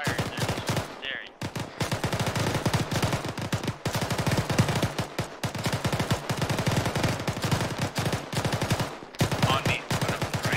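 Sustained automatic gunfire as a squad opens up in a military shooter game, rapid bursts and long strings of shots, loud and close, with brief pauses.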